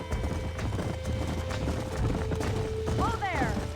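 Horses gallop in the video game Red Dead Redemption, a steady rapid clip-clop of hooves over ambient game sound, with a whinny near the end and voices talking over it.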